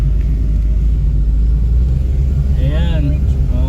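Mitsubishi Mirage G4 GLX automatic climbing a steep road at around 3,000 RPM, its engine holding a steady, loud low drone inside the cabin while a voice speaks briefly near the end.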